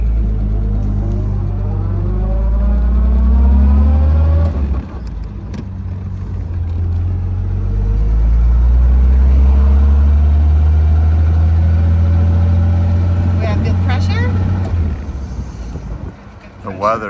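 A 1962 Jaguar XKE engine runs loud and close, its pitch climbing, dropping at a gear change, then rising again on the drive, with wind buffeting the microphone.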